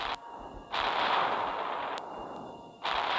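Bombs exploding in a world-destruction strategy video game, heard as loud, dense roaring blasts that run almost continuously, with brief dips between heavy bursts and no talking.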